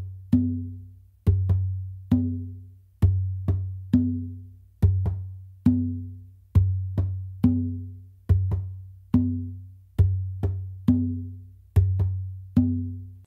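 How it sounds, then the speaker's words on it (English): Conga groove played by one hand on the bingba drum, cycling through bass, finger and open tones in a steady repeating pattern of sharp, close strikes with short ringing decays, over a low sustained hum, with no voices. "what I'm doing with my non-dominant hand here on the Bingba, what I'm doing is a bass and finger and then an open."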